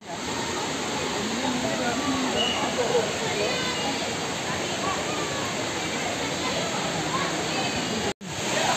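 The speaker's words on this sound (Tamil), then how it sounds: "நீங்க இந்த அருவியை பாத்தீங்களா?" Waterfall in Kolli Hills gives a loud, steady rush of splashing water, close and continuous, with a brief dropout near the end.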